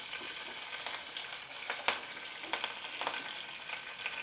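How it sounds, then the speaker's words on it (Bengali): Curry leaves sizzle and crackle in hot oil for a masoor dal tadka, a dense steady frying hiss up close with sharp pops and spits scattered through it. "কারি পাতাটা এখানে একটু সাবধানে ভাজতে হবে"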